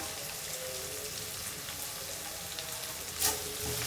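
Okra (ladies finger) fries in a pan with salt, giving a steady, close, even sizzle throughout with a brief brighter crackle near the end.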